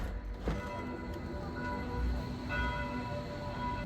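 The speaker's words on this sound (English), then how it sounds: "There's a church outside that you can hear the bells right now." Church bells ring outside a building in Berlin, faint and distant, their sustained tones hanging over a low background hum.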